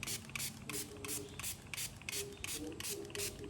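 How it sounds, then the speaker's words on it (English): Alcohol is spritzed from a spray bottle onto an abstract painting: a quick series of about nine short, hissing bursts in a fairly even rhythm, close and fairly soft. "Give that a bit of a spritz as well."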